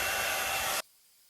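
A hair dryer blows steadily and loudly while styling hair for volume and lift, a broad rushing airflow that cuts off abruptly partway through, leaving near silence.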